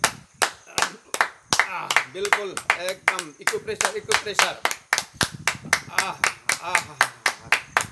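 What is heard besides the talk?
audience clapping to welcome the guru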